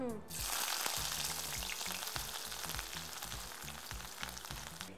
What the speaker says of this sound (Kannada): ಸಾಸಿವೆ ಈ ಥರ ಶಬ್ದ ಬಂದಾದ